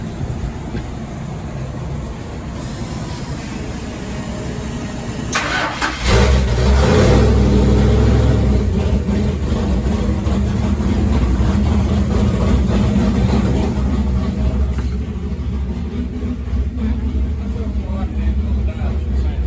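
Big block 400 V8 on a dyno breathing through open 18-inch collector extensions, idling then blasting into a loud, sustained roar that settles into a heavy, rumbling hold.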